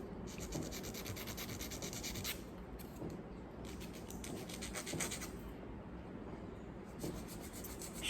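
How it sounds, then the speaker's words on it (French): A nail file rasps back and forth across the tip of a fingernail in a nail kit, steady close scratchy strokes in several bursts with brief pauses, quiet and without talk. "j'ai plus qu'à limer l'extrémité"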